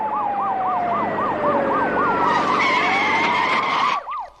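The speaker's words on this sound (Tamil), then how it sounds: "நம்ம வண்டிக்கு முன்னால போற போலீஸ் ஜீப்ல இருந்து வர்ற சத்தம் தான் சார்." A police jeep's siren wails in steady rising and falling cycles, loud and close from just ahead on the road, with a second higher tone joining before it cuts off abruptly near the end.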